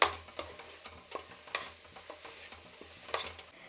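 Masala frying in oil in a pan, with a soft crackle under repeated scraping stir strokes and a few sharper clinks of a spoon against the vessel, close by and fairly quiet, no voices.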